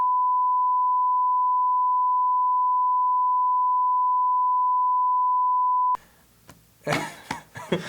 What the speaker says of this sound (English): We should just keep the don't include it and then have beep